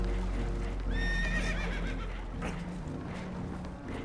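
Spooked horses in Red Dead Redemption 2, aboard a damaged boat taking on water, let out a loud whinny about a second in over a steady rumbling background, with further faint rustling afterward and no talk.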